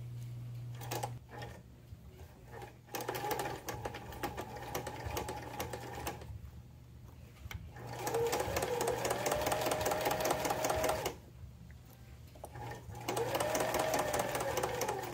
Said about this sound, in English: Start sewing at the top of the tab, backstitch to secure, and continue sewing all the way down to about